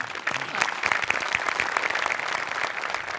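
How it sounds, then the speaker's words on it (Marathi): Audience applause on a Marathi comedy show stage, a dense, steady wash of clapping that holds at an even level throughout, with no pauses or talk. "त्यांच्यासाठी एकदा जोरदार टाळ्या"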